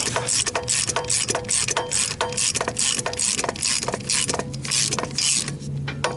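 Short hand ratchet clicking steadily as it turns a three-jaw gear puller removing the balancer from an SRT-4 engine during teardown; rapid, regular ratcheting pawl clicks in close succession, loud and close, with no talking.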